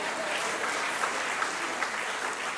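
Sustained applause from members of South Africa's Parliament during the 2016 budget speech by the Finance Minister, a dense, even wash of clapping filling the chamber at steady volume throughout.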